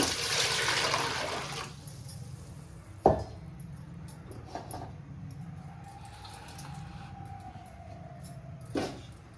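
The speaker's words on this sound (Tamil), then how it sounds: "1 லிட்டர் தண்ணியெல்லாம் ஊற்றிக்கலாங்க." Water pours and splashes into an idli steamer pot at first, then gives way to quieter clinks and a couple of sharp knocks in a dim room.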